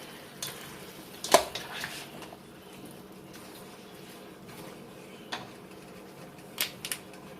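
A spoon stirs chicken stew ingredients, including stewed tomatoes, in a pot, giving a few soft scrapes and clinks, one sharper knock early and a couple of light taps later, over quiet kitchen background.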